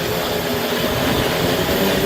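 Continuous whirring propellers of an IBOD search drone buzz steadily and fairly loud for a couple of seconds, with no talking.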